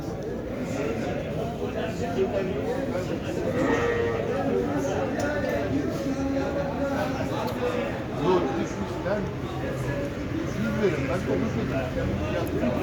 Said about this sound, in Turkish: Bunlar da dişi kuzular arkadaşlar.